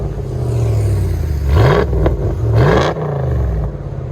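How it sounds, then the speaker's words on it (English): A 2022 RAM Power Wagon with a 6.4L HEMI V8 and a muffler delete revs twice in quick succession. Each blip climbs and falls back to a loud, rough idle, close by. "Powerwagon, just a muffler delete."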